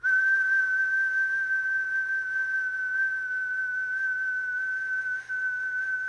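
A steady, piercing high-pitched ringing tone holds unbroken and loud throughout, like ears ringing, with a faint low hum beneath.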